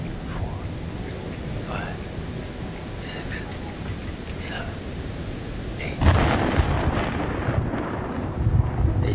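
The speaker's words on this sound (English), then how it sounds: "The storm's 8 miles away." Thunder rumbling through a storm in the video game Man of Medan, a low sustained roll that swells louder about two-thirds through, with faint voices murmuring underneath.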